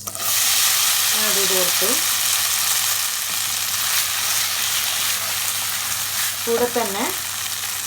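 Vermicelli fries in butter in a hot pan, a constant loud sizzle and crackle running the whole time, with someone speaking briefly over it near the start and again near the end.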